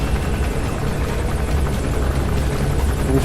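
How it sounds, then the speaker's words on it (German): Helicopter flying in Metal Gear Solid 5, a steady, dense rotor and engine roar that holds at a constant loud level throughout, with no voices over it. "Mal gucken, wo der scheiß Helikopter ist."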